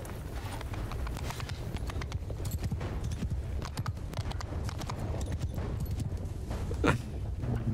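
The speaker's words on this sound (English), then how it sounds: "your horse makes sounds like you're walking over stone" Horse hooves clip-clop steadily and continuously in Mount & Blade II Bannerlord, with a hard, stone-like ring to each step even when crossing grass, forming a close, unbroken walking rhythm with no talk.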